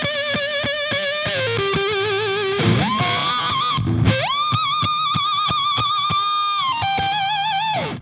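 Electric guitar through fuzz, reverb and a whammy pedal, sustained distorted notes bending sharply up and down in pitch with a shaky vibrato, loud and continuous with no talking.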